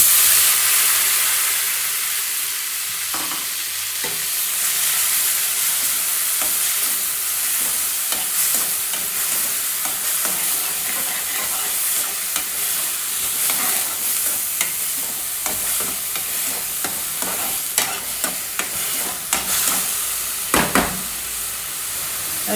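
Baby potatoes and onion paste fry and hiss in a pan, a continuous sizzle broken by scraping stirs and occasional clatters of a utensil, with no one speaking.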